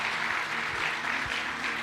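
A church congregation claps together in a short, even burst of applause, soft and somewhat distant, with a low hum beneath.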